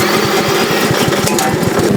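A 7-horsepower remote-controlled robot mower's engine runs loudly close by, a rapid throbbing putter with no talk.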